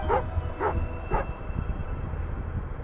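An angry dog in a video game barks three times in quick succession, loud and close, with a low growl running under the barks and no talk over it.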